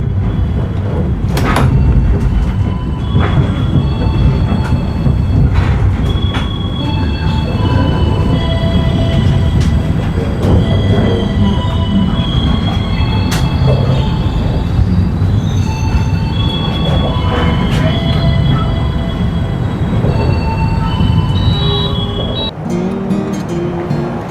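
The KA Lodaya passenger train from Solo Balapan to Bandung runs steadily on its rails, a loud continuous rumble heard from inside the carriage with faint metallic squeals and clunks, easing near the end.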